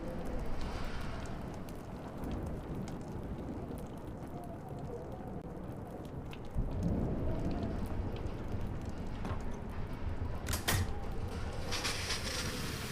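Steady, heavy rain roars in the video game Life is Strange during a storm, a dense continuous wash with occasional louder cracks and gusts.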